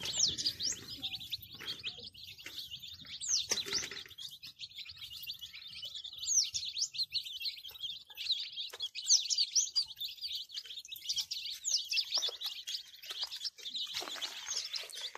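Day-old native chicks in a simple coconut-frond shed give a steady chorus of high, rapid peeping, many birds overlapping close by for the whole stretch with little pause.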